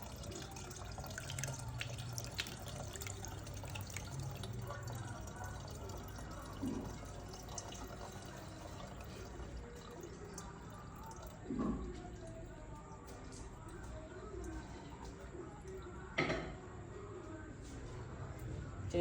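Homemade Jamaican ginger beer made with garden ginger is strained, the liquid pouring and splashing in a steady, low, wet trickle for about nineteen seconds, with a few louder splashes and some faint talk.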